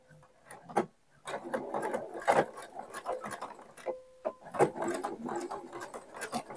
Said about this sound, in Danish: Så skal jeg nu sy på de 3 sider her for at lave lommeåbningen.